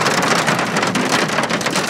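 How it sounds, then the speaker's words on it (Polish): Hail pelts down steadily during a spring storm, a loud, dense, hissing patter of countless small impacts with no voices. "grad pada!"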